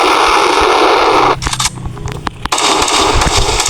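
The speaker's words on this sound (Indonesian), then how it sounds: "Kita akan tembak orangnya. Itu kita tembak-tembak dulu." Roblox Brookhaven gunshots crack out in a quick cluster of sharp reports during a break in a loud, dense game soundscape, close and punchy.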